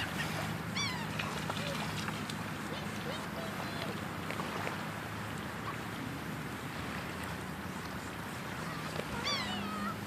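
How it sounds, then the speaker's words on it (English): Birds call and squawk intermittently near people feeding them outdoors, with a wash of water or wind noise throughout; voices talk over the scene and several sharp chirping calls stand out near the start and end. "Birds, come here."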